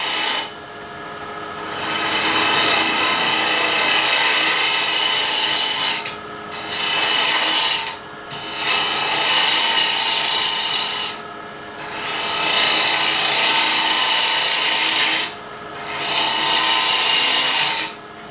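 A lathe turns a lidded wooden ring box while a tool makes a slow, light cut, a steady loud rasping hiss that stops briefly several times before resuming, close up, with no talk.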